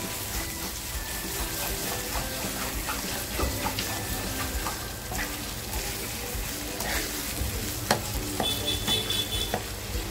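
Mutton keema fries in a pan, a soft continuous sizzle broken by scraping stirs and occasional clinks of the spoon against the pan, fairly close and fairly quiet.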